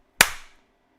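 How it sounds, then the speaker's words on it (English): A single sharp hand clap rings out loud and close, a crisp broadband burst with a short decaying tail, followed by silence. "Occasionally, clap once loudly"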